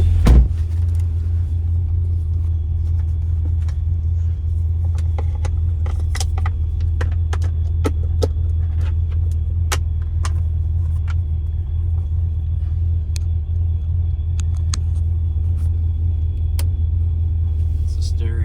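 A 2005 Pontiac GTO with a Procharged 6.0-litre engine runs steadily while driving, giving a continuous low rumble inside the cabin, with scattered small clicks and rattles over it.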